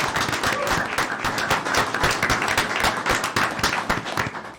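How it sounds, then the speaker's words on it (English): An audience at a city council meeting breaks into steady, dense applause, many hands clapping together at close range for several seconds before beginning to taper. "Give Omo a round of applause."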